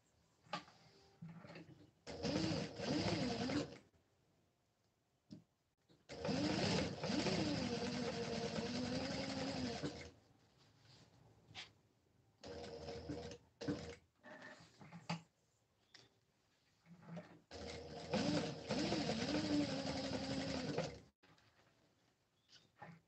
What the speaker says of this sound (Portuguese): Agora eu vou costurar